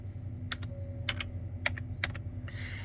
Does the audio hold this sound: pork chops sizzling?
no